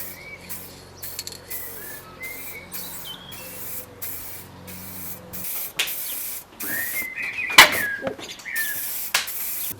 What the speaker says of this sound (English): So let's take this outside and give it a spray.